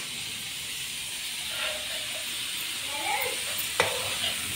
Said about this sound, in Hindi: कीमे को तब तक भूनेंगे जब तक इसका कलर चेंज ना हो जाए